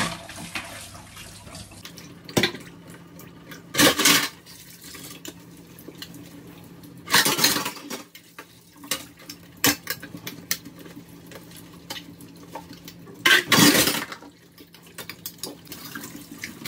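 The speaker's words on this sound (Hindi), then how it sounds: "माज लेते हैं बर्तन।" Dishes and utensils are washed by hand under a running tap, steady water flowing throughout with several louder splashes and gushes as items are rinsed; no talking.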